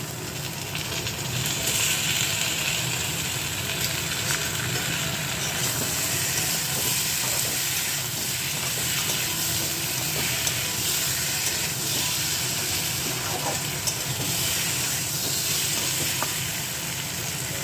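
Eggs hit hot oil in a frying pan alongside potatoes for an egg curry, giving a continuous, close, steady sizzle and crackle that holds throughout with no talking.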